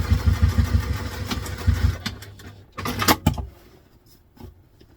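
A sewing machine stitching across the exterior of a vintage-style doctor's bag handbag runs in a rapid, even motor rattle for about two seconds, then stops, followed by a few clunks and a short second burst.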